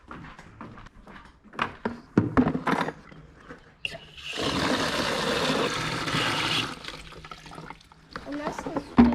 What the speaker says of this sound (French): Allez, on remplit les seaux.